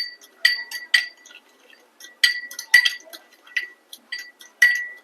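Spoon clinking against a glass bowl while mixing a dry spice masala of amchur powder, black pepper and salt, in irregular bright taps and scrapes, close and fairly loud with pauses between strokes.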